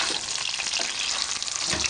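Pork roast searing in a cocotte right after being turned, a steady bright sizzle of fat running unbroken for the whole stretch with no talk over it.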